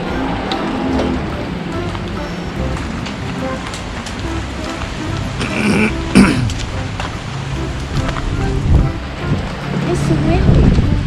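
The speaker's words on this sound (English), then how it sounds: "Yeah, it's windy and there's some hail." Wind and hail storm over a garden: gusty, rushing wind with a dense patter of hailstones striking surfaces, some sharper hits standing out, growing stronger toward the end.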